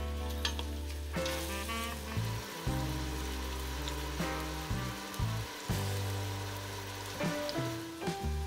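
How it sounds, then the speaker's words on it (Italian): Chopped garlic cloves and bay leaves sauté in a pan for an Umbrian tripe in sauce, giving a steady, soft sizzle that runs under prominent background music. "Aggiungi due o tre spicchi d'aglio tagliato a pezzetti, qualche foglia d'alloro e lasci soffriggere per benino mescolando."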